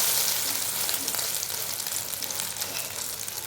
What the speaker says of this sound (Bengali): এই পিঠটাও ভালো করে ভেজে নিচ্ছি